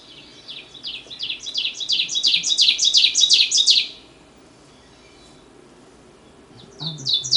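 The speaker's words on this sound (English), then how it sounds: "it's called an ovenbird because it has a nest that looks like a Dutch oven on the forest floor" An ovenbird's teacher-teacher song swells steadily louder over several seconds, a rapid high repeated phrase, then stops before a short new burst begins near the end.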